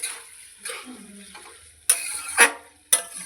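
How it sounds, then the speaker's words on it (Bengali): Food being stirred in a pot, with a few sharp scraping clinks of a utensil against the metal over a soft background, close by and without speech. "এইভাবে নাড়তে হবে, নাড়তে নাড়তেই হয়ে যাবে।"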